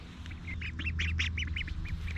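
Ducks in a backyard garden quack in a rapid run of about ten calls, fairly close and loud over a steady low hum.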